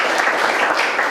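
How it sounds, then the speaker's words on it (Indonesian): A brief burst of steady clapping from a group of people, loud and close. "Tepuk tangan untuk Tara."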